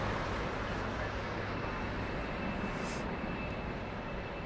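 An American Boeing Dreamliner airliner rolls along the runway at Heathrow Airport, a broad steady jet roar heard from a distance, constant and unbroken.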